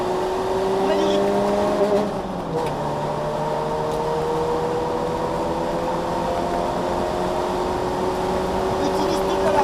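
A car driven on a race track during a driving-coaching session, its engine note rising and falling steadily as it accelerates, with a brief dip around braking, heard loud and continuous from inside the car.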